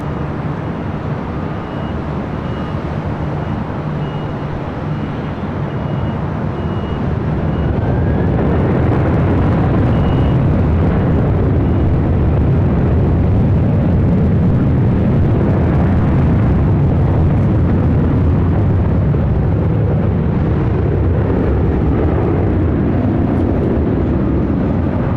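A Delta jet takes off from LAX runway 24 left, a roaring engine rumble that builds from a steady hum to a loud broad blast and holds through the takeoff run.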